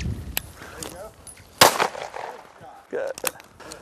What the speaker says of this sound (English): Good shot, Steve.